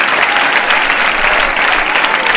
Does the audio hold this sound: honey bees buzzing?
no